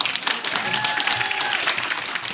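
Audience applause breaks out at a women's holiday celebration, a brief, even patter of many hands at moderate distance with a faint tonal note drifting under it.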